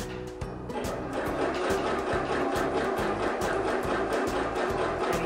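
Sewing machine running a zigzag stitch along a fabric edge, a steady rapid mechanical chugging rhythm, close and continuous after a brief start, with no talking.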